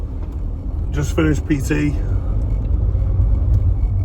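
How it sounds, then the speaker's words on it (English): Steady low rumble of a car interior while driving, with a person talking briefly over the road noise. "I'm back in the car again."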